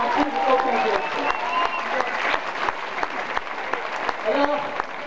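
Audience applause at a European forum against an airport project, a loud sustained wash of many clapping hands with sharp individual claps standing out and voices murmuring and speaking over it.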